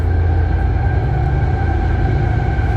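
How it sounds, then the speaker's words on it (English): A train passes close behind a shop, giving a loud, steady rumbling drone with a humming tonal layer and no break or talk throughout. "That's the train going by."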